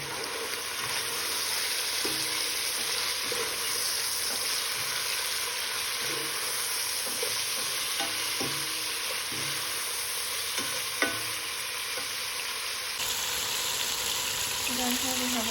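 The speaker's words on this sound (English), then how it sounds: "we want to brown off our meat for a little bit first" Meat browning in a pan: a dense continuous sizzle and fry, with soft scraping stirs under it, close and steady throughout.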